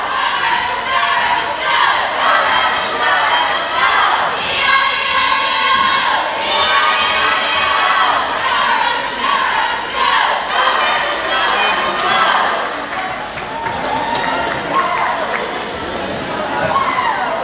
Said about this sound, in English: So you can hear the Tulsa cheerleaders down there rallying the crowd.